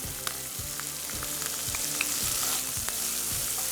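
Onions, green chilies and cashews fry steadily in a pan with curry leaves and a pinch of asafoetida, a continuous close sizzle broken by regular stirring scrapes about every half second. No voices.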